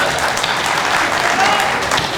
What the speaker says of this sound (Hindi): तालियां कमा रही हैं आप।